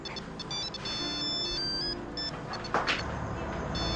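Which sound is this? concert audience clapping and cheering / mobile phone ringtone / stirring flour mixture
mobile phone ringtone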